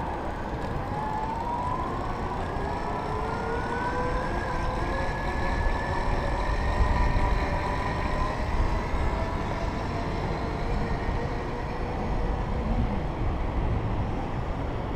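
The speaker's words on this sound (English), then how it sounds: "give you some idea of what that motor sounds like at 200 watts" EG Enterprise electric bike with a 200 watt hub motor running on throttle, a steady high whine that rises in pitch and holds, fairly quiet over road and wind noise, no talking.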